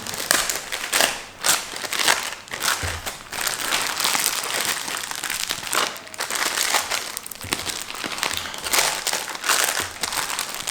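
Packaging tape crinkling and tearing as a Rode Wireless Go II wireless microphone kit is unboxed, a dense, continuous close-up crackle with rustling bursts throughout and no talking.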